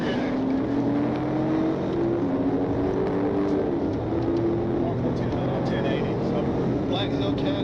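A black Dodge Charger Hellcat with red wheels is chased by police at high speed. Heard from a following car, it gives a loud, steady engine and road roar with rising tones, under radio talk.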